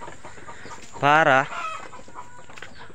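Chickens in a backyard coop give a loud, clear rooster-like call about half a second long, harmonic and rising, over low background clucking and faint farmyard noise.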